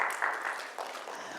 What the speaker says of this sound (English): If you'll be there, just clap.